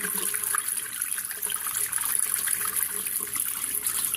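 Water swirled and rinsed inside a plastic part of a Dyson DC33 vacuum during reconditioning: a steady close sloshing and splashing wash with a constant bright hiss, running unbroken throughout.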